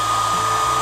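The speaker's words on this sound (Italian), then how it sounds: "ecco qui il phon in utilizzo" A hair dryer runs aboard a sailboat, powered by a portable power station charged from a solar panel, giving a loud, steady, unbroken whoosh for under a second.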